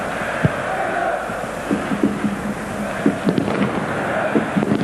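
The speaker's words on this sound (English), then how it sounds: "Firecrackers going off all round the stadium." Firecrackers going off around a packed football stadium during a Greece versus England World Cup qualifier in 2001: scattered sharp pops and bangs at a distance over a constant crowd roar, with faint commentary underneath.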